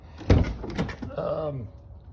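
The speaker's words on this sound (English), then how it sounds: "once you touch it, it unlocks the car. You'll hear it unlock" A sharp mechanical clunk of a car door lock as keyless entry unlocks the car at a touch of the handle, followed by a short electronic chirp and some low background murmur.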